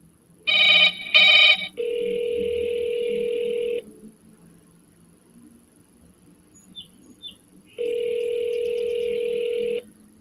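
A telephone ringback tone on an outgoing call sounds in two long steady buzzing rings, separated by a quiet gap, with a short pair of tones before them.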